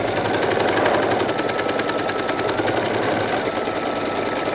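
An embroidery machine stitches steadily at close range as it tacks down base fabric for a tooth fairy pillow, its needle making a rapid, even mechanical chatter with no voices.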